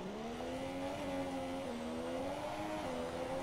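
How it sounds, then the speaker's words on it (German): An F1 car from the video game F1 2017, a Renault, drives out of the pits in Russia qualifying with a steady, buzzing engine whine whose pitch gently rises and dips, continuous throughout with no talk. "Tobi fährt schon raus."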